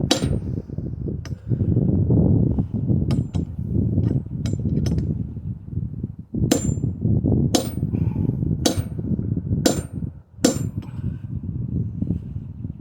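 Heavy metal-on-metal clangs from a hammer driving an outer bearing race into an MGB wheel hub, about ten loud ringing blows in uneven groups, close and with no talking.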